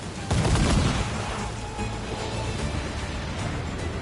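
A cannon and gun volley booms from a sailing ship in Assassin's Creed Black Flag, a heavy burst up front that rolls into a rumbling, sustained wash of blasts over the sea.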